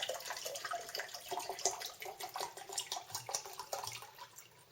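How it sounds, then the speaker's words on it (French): Water poured from a measuring jug, a quarter litre for bread dough, splashing and trickling steadily at close range for several seconds, no talk. "Je vais verser un quart de litre."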